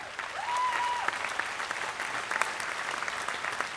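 A large commencement audience at Fitchburg State University applauds standing alumni, a steady wash of clapping throughout with a brief whistle near the start.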